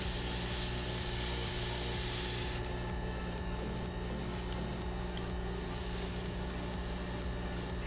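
Airbrush spraying paint onto a Be'lakor miniature's skin with the air pressure turned down, a continuous steady hiss that drops slightly quieter partway through and then returns, alone without talk.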